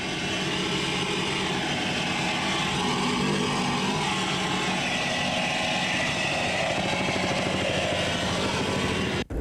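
Racing powerboat engines roar at the 1983 APBA Championships off Key West, Florida, in a loud, unbroken drone that holds steady for several seconds and then cuts off abruptly near the end.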